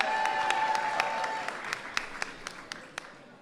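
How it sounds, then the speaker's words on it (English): An audience at a Black History Month reception applauds members of Congress, moderately loud clapping with a few sharp individual claps standing out as it gradually thins and fades. "Give them a big round of applause."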